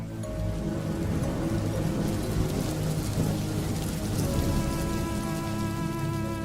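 Steady heavy rain pours down across the whole stretch, loud and continuous, with low rumbling thunder rolling underneath at a night-time storm; no voices.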